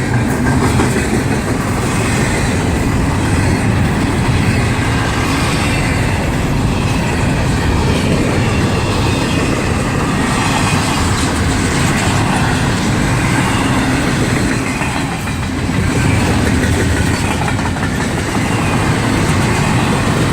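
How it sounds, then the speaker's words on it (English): A long freight train rolls past close by in Gary, with continuous loud rumbling and rhythmic clickety-clack of wheels over rail joints, steady for the whole stretch. "This is a pretty long train right here."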